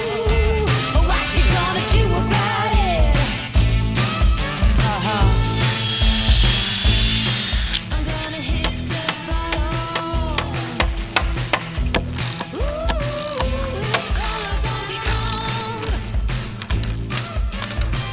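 Bolting wooden braces to a vertical post in a backyard, with a ratchet wrench clicking in long, rapid, uneven bursts close by for the whole stretch, with occasional clanks and no talking.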